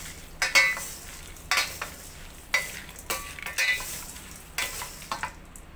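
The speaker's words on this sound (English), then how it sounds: "Keep stirring, keep mixing so that the cranberries will be blended" Granola and dried cranberries being stirred in a pan, making a series of short scraping, rustling strokes at an irregular rhythm, close and fairly quiet, with no talking.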